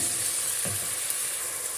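Steady, even sizzling of onion frying in hot oil, a constant crackly hiss with one faint soft clunk partway through.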